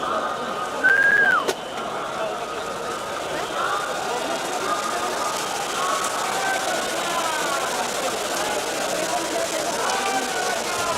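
A person gives one short, clear whistle that rises and then falls, heard over a constant wash of outdoor crowd noise.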